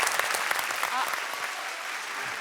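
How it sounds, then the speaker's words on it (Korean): A studio audience on a Korean television show claps in a dense, steady burst of applause that fills the space evenly and loudly for a couple of seconds. "박수 한번 주시죠."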